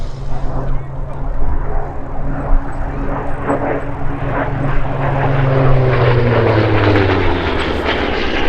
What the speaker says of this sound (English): This thing, folks, really is the pinnacle of piston engine fighter design.